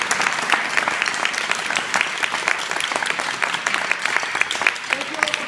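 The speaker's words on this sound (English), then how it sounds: "can we see another round of applause for our students?" Sustained, lively applause from a school audience for student performers at a Black History Month STEAM celebration concert, brisk claps over a steady wash with some voices underneath.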